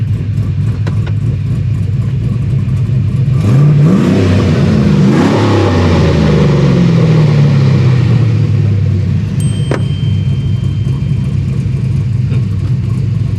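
A swapped 5.3 V8 engine idles with a deep rumble, then revs up twice in quick blips and falls back down to idle, loud and close.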